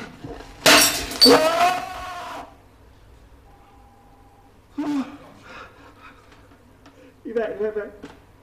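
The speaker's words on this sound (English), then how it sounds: "someone smashed the mirror" A mirror smashes with a loud crash of breaking glass, followed by scattered tinkling fragments; voices break in later over the quiet aftermath.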